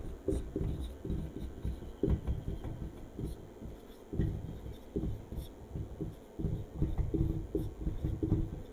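Chalk or marker writing on a board during a classroom lecture: continuous scratchy strokes in irregular bursts, close and fairly quiet, with no talking.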